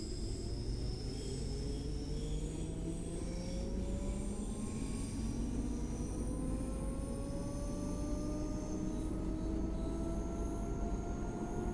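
A ScotRail Class 314 electric train in a train simulator game runs steadily over points, giving a continuous loud rumble with rising motor whine throughout, and no talk.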